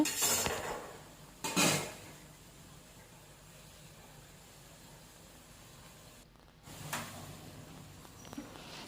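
A spoon stirs dal in a cooking pot, giving a few sharp metallic clanks and faint scraping against a quiet room background.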